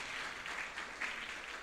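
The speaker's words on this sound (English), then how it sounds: "Can I request that we put a big, big round of applause for our sponsor" A conference audience at an insurance brokers' gathering in Mbarara gives a faint, brief patter of applause for a sponsor, heard alone.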